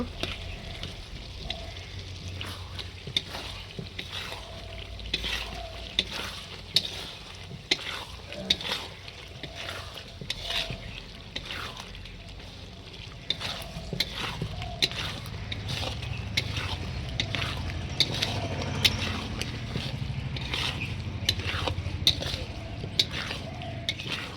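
Black chicken with ginger garlic paste is sautéed in a pan, a spoon scraping and stirring in repeated strokes over a continuous sizzle that grows fuller toward the end, close and fairly loud.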